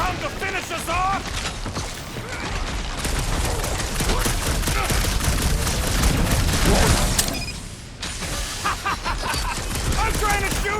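Gunfire rattles through a fight in Marvel's Guardians of the Galaxy on PS5, with dense bursts, booms and mechanical clatter running loud and continuous, broken by a brief lull near the end, while voices talk over the action.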